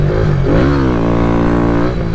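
Kawasaki Z125 Pro motorcycle with a sticky clutch revving as it pulls away, a loud close single-cylinder engine note rising in pitch and holding steady, with no talk.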